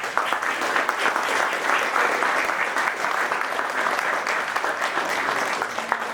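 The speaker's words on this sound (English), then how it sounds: "I would love for everyone to give them a round of applause and appreciation" Wedding guests applaud the couple with sustained, even clapping from a sizable crowd, a dense patter lasting several seconds with faint murmurs underneath.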